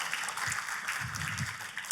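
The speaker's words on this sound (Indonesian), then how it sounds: "Bagi saudara yang mau tepuk tangannya yang terbaik bagi Yesus Tuhan." An Indonesian church congregation gives a steady wash of dense clapping during a sermon service, heard at a moderate distance with no voices over it.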